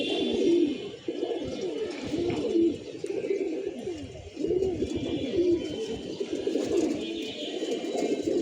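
Pigeons in a loft, males, females and young together while feeding, cooing in repeated soft, throaty rolling phrases close by with a few faint chirps, the calls overlapping and continuing with no speech.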